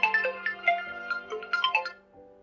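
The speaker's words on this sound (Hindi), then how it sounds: "मम्मी का फ़ोन।" A mobile phone ringtone plays a short bright melodic phrase of quick tones, clear and fairly close, then fades out; no speech.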